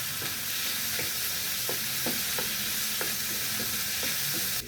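Eggplant sautéing in a pan for pork adobo, a steady close sizzle broken by regular light taps and scrapes of a utensil stirring the pieces.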